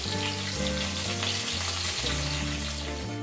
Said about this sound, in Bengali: মাছগুলোকে আমি লাল লাল করে ভাজা করে নেব।